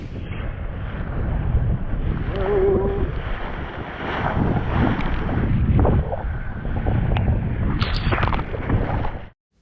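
A Laser sailing dinghy out at sea on the Bristol Channel coast, with steady wind buffeting the microphone over the wash of water and waves against the small hull, loud and continuous throughout.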